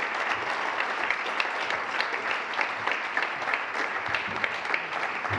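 An audience at a policy report launch in Geneva applauds authors taking the stage, with dense, even clapping that stays steady and fairly distant for several seconds.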